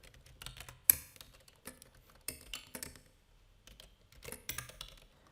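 Computer keyboard typing, bursts of quiet close key clicks in uneven clusters with short pauses between them.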